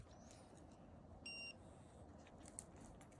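A short electronic beep tone from a handheld dog-tracking device sounds once amid faint outdoor background noise, with a tiny chirp shortly after.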